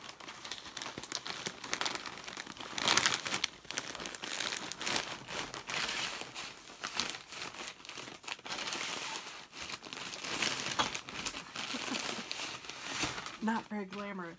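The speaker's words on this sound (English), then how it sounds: "let's rip it open and see what's inside" Crinkly plastic mailer from Wool Warehouse holding yarn being ripped open and rummaged through close up, a steady run of crumpling and tearing rustles under a speaking voice.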